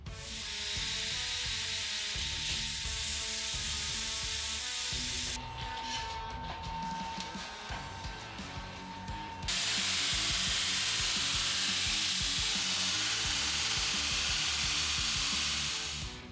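A belt grinder with a waterfall platen grinds a knife blade in a loud, continuous abrasive hiss. Midway it briefly drops to a quieter motor whir with a faint tone, then the harsh grinding resumes.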